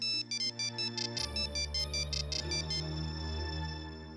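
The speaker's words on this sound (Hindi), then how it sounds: "ये मेरा फोन भी नहीं उठाएगा।" A phone rings out on an outgoing call in a Hindi TV drama, with a loud, repeated electronic ringtone pattern in short even bursts that turns into sustained tones over a backing music bed.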